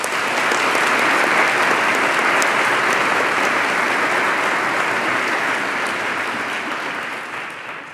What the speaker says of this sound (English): Please join me in a quick round of applause